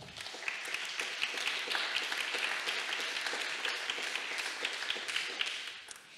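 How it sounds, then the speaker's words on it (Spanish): Dense audience applause at an industry panel event rolls on steadily as many hands clap together, loud and sustained before easing off at the close. "Un aplauso para ellos, por favor."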